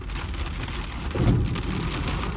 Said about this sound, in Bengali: বৃষ্টির ফোঁটা এত বড়